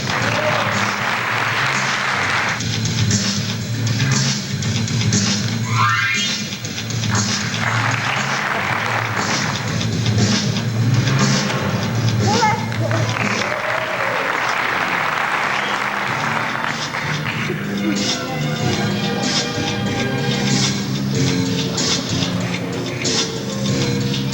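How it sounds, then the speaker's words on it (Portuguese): A theater audience applauds strongly and euphorically after a teen magician's act, a dense sustained wash of clapping that swells in waves over about twenty seconds, with faint music and ticking beneath. "As pessoas na plateia, logo veio uma reação muito eufórica, um aplauso muito forte"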